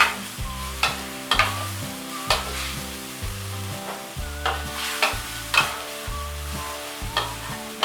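Pork and spring onions stir-fried in a pan, with rhythmic spatula scrapes and tosses over continuous sizzling, close up, while a low musical hum runs underneath.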